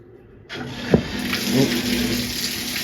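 A hotel shower is turned on after a brief quiet moment, and water rushes out at strong pressure in a steady, loud hiss with a small clunk as it starts.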